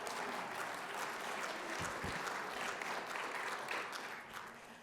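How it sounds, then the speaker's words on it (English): An audience at an elected officials' swearing-in ceremony on New Year's Day claps in a long, even round of applause, fairly soft and a little distant, tapering slightly at the end. "Give yourselves a round of applause for showing up today."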